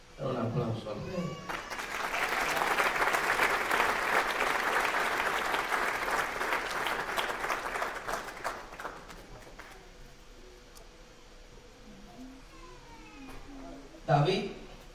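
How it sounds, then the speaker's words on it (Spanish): An audience at a church service breaks into applause for a preacher, a dense sustained clapping from many hands that swells, holds for several seconds, then fades out as a voice speaks near the end. "Un aplauso al rey."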